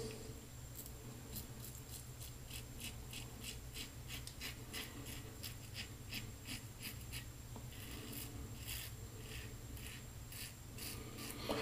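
Wolfman WR1 safety razor on a first shaving pass, with short scraping rasps repeating steadily close to the microphone, becoming quicker and more frequent toward the end, all over a low hum with no talking.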